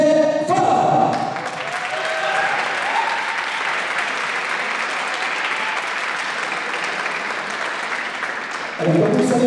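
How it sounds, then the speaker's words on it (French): Applause for a former player at a hockey match rises after brief voices and holds as a loud, dense crowd clapping for several seconds, ending as talk resumes. "On l'applaudit bien fort, s'il vous plaît, Michel Favre."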